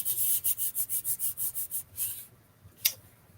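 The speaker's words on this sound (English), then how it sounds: "I'm just going to flip it over to burnish it" Burnishing a glued paper greeting card, a dry rhythmic rubbing of about a dozen quick even strokes, then a pause and one sharp scrape, close and fairly quiet with no talk.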